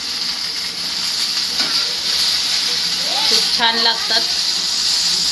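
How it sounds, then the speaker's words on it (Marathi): Drumstick pieces frying in hot oil give a constant close hiss and sizzle, while someone speaks briefly over it. "तर असं आपण लालसर असं फ्राय करून घेणार आहे."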